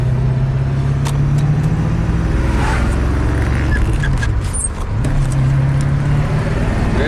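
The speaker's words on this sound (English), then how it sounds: "we're taking the Porsche for a little spin" A 1984 Porsche 928 S drives along, its engine note rising and falling steadily under loud road and wind rumble, heard from inside the car with a brief dip as it shifts.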